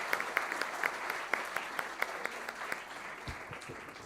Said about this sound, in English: Guys, could you please give her a big round of applause?